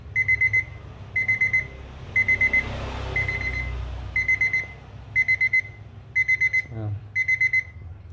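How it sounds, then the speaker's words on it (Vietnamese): A desk alarm clock with aluminium body and glass face rings its bell in repeated short bursts, loud and close, with brief pauses between each ringing group over a low background hum. "Chuông báo thức to lắm."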